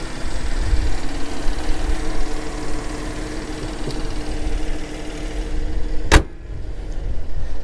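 A Rolls Royce with a past coolant leak idles at a salvage auction lot, a steady low engine hum running throughout, broken once by a sharp click or thump partway through.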